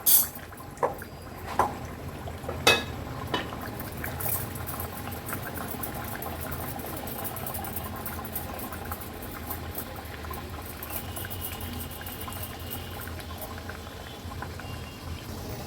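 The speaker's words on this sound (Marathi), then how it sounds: "तेलात वडा घातल्याबरोबर कसा छान फुगला गेलाय।" A vada deep-frying in hot oil over a medium-high flame, a dense steady bubbling sizzle that runs throughout, with a few sharper pops and clinks early on.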